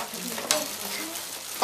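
Spoonfuls of garlic and anchovy sauce being stirred into a sauce, with soft scraping and clinking of a spoon in a bowl and a couple of sharper taps, fairly close and steady, with no talking.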